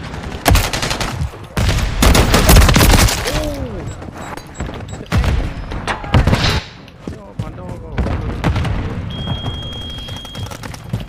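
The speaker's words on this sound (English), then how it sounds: "Throwing a stun grenade!" A stun grenade and gunfire in a Call of Duty MW3 team deathmatch on the Terminal map, loud bursts and booms in quick succession with players talking and shouting over the action.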